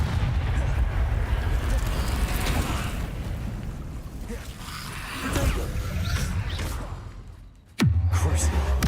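Explosive spell blasts in Hogwarts Legacy on hard mode, a dense rumbling boom filling most of the stretch, fading, then a second sharp burst near the end, over steady low game noise.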